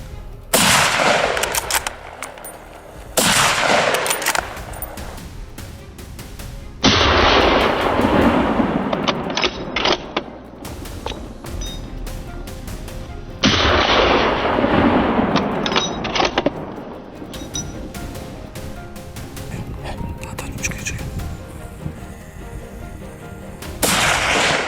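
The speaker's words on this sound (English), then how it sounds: "A series of gunshots rang out right at the location where the wild boar was active." Gunshots fired at wild boar during a farm hunt: a series of loud, sharp reports in separate bursts spread across the stretch, each with a long ringing decay, no talk.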